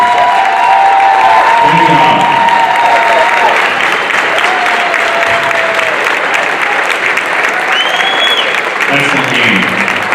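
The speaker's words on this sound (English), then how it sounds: "how about a big round of applause for the Edgar Wildcats" Crowd in a gym applauding after a WIAA Division 5 girls' basketball regional final between Edgar and Assumption, sustained loud clapping filling the space while a few nearby voices speak over it.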